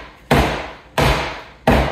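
A hammer strikes a block set on the corner of a 10-frame EPS polystyrene beehive box to seat the joint. Three loud, close, deep thuds land about two-thirds of a second apart, each fading quickly.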